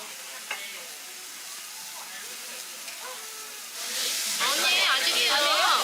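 Samgyeopsal pork belly grills on a hot plate with a faint sizzle that swells into a louder, crackling frying hiss near the end, while people chat over it.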